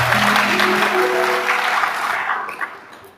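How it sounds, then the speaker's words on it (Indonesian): Enthusiastic applause from a church congregation, with a voice talking over the start; the dense clapping gradually thins and fades out over about three seconds. "tepuk tangan yang meriah"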